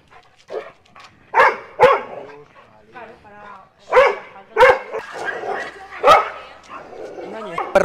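Dogs bark in sharp repeated bursts, close and fairly loud, interleaved with someone speaking Spanish about a reactive dog out in the countryside.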